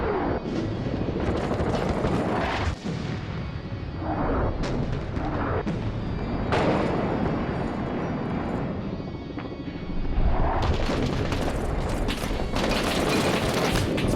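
Mortar fire in the war video game Six Days in Fallujah, a dense roar of booming impacts and rumbling blasts layered with scattered gunfire and mechanical noise, loud and continuous throughout.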